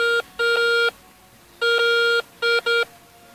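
A metal detector sweeping over ground at a World War I site gives repeated electronic tones, loud and close, sounding in short bursts and pauses with no talking.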